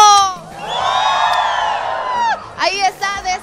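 A crowd of school children at a school challenge event gives a long, loud high-pitched cheer that swells and holds, then breaks into scattered shouts and whoops.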